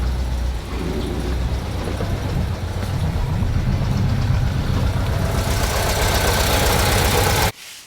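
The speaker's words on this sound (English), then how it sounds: "you will be very surprised about the quietness of this engine" A 1989 water-cooled Volkswagen T3 van engine idles steadily with a low, even rumble and faint mechanical clatter, then cuts off abruptly near the end.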